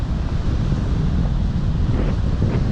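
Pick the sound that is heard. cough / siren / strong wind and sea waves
strong wind and sea waves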